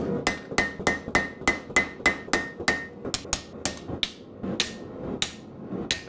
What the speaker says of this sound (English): Now I can hold onto the handle and forge the blade.